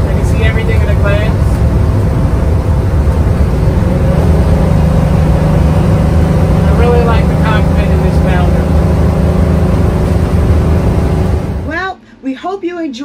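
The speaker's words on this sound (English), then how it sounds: "Enjoy driving with us down the road in our Class A motorhome." A Class A gas motorhome rolls down the road, its engine and road noise a loud steady drone from inside the cab, with scattered faint tones on top before the sound cuts off near the end.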